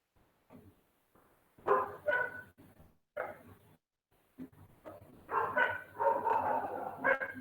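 A dog barks in short bursts during an online webinar class, coming through a participant's unmuted microphone as a series of sharp yips and woofs with brief pauses.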